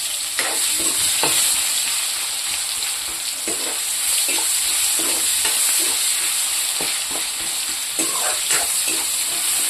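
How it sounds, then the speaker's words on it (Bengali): Onions frying in oil in a pan, a continuous close hiss with light spatula scrapes and stirring taps at irregular intervals. "পেঁয়াজটা একটু বাদামি কালারে ভাজবো"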